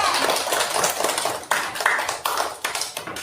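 A classroom of pupils claps their hands together in a short burst of uneven claps with a few sharper accents, sounding close and reverberant in the room.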